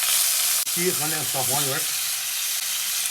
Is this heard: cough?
no